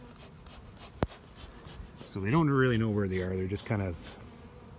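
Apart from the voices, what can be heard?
bees buzzing in a bee yard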